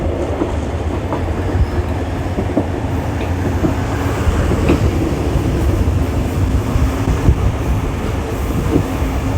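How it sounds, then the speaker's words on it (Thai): Continuous rumbling of an accelerating cross-border train from Nong Khai, Thailand, to Thanaleng, Laos, with rhythmic clacking of wheels on track, steady and close, as from inside a carriage. "ขบวนรถนะครับ ก็เริ่มเร่งความเร็วนะครับ"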